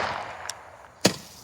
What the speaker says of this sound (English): That was kind of firework that big.